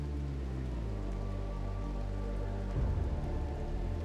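Steady rain in the video game Rimworld makes a constant soft patter and hiss that stays even all the way through, at a faint level, with no talk.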